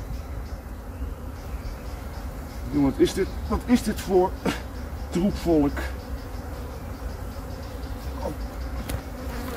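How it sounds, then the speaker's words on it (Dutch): Honey bees from a newly collected colony swarm around a small, overcrowded hive box, a steady insect buzz running throughout while someone talks briefly over it. "Dit zijn echt niet vriendelijke bijen."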